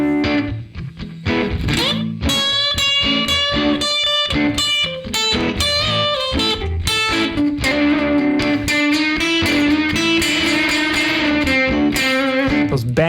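Distorted electric guitar plays expressive blues-scale phrases with sustained, bending notes over steady backing, loud and continuous with no talking.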